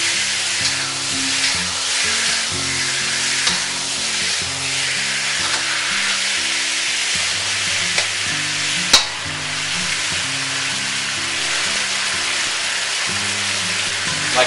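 Cubes of ribeye steak, about three-quarter inch, stir-fry in a hot pan, giving a steady loud sizzle and crackle that runs continuously, with occasional clinks and scrapes of stirring.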